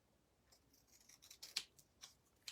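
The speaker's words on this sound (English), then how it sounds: "now I want to go straight across with my scissors" Scissors cutting straight across paper, a quiet series of crisp snipping strokes that grow a little louder and quicker toward the end, close up with no talk.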